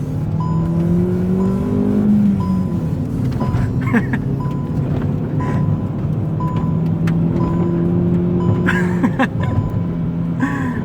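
A Hyundai i20 engine revs up and down repeatedly, rising and falling in pitch, loud and close, with some voices talking underneath.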